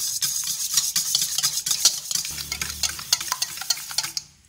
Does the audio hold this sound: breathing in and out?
no